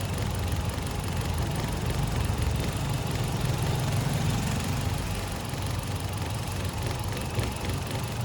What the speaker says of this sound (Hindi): नॉइज़ भी कम हुई है और वाइब्रेशन भी इंजन की कम हुई है।